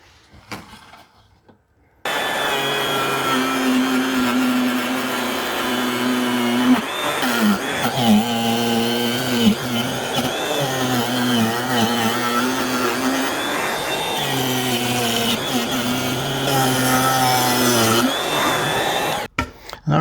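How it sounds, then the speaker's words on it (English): A router shaping a wooden guitar neck, a loud steady high-pitched whine with grinding cutting noise that starts after a brief quiet opening, runs nearly continuously with slight shifts in load, and cuts off near the end. "So now I'm going to go ahead and route this to be even with this"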